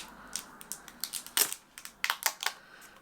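Plastic protective film is peeled and crinkled off a new Samsung Galaxy Z Flip 5 phone, with a quick series of sharp, close crackles and snaps coming in irregular bursts.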